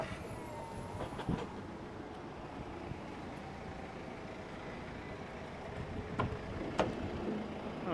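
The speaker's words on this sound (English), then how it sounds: "Take a nice little elevator ride all the way down to the bottom." A freight elevator descends carrying a grip light cart, producing a steady low mechanical rumble with a few sharp clanks and rattles along the way.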